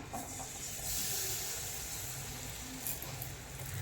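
Jaggery fries in hot oil in a wok, giving a soft, steady hiss and sizzle close by, faint and continuous with no talking.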